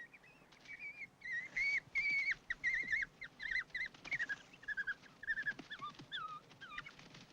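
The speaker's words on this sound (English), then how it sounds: "Then the other dogs joined in the attack, as Angel desperately sought the safety of h" Dogs attacking another dog near its den, with repeated high yelps, whines and squeals in rapid bursts over a steady rough background, loud and close throughout.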